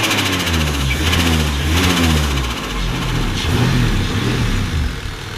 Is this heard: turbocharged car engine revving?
yes